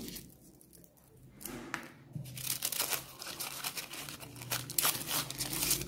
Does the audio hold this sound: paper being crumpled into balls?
yes